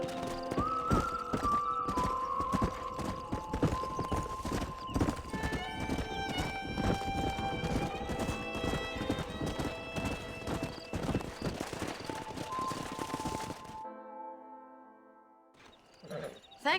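Horses gallop in Red Dead Redemption, a dense rapid clip-clop of hooves with whinnies and neighs over a musical score, loud and close, thinning out near the end.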